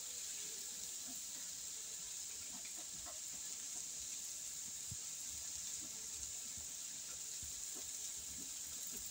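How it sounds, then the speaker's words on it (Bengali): Taro leaves (kochu shak) with mustard paste cook in a pan, giving a faint, steady sizzling hiss with scattered small pops and crackles throughout. "কচু শাক রান্না চলছে"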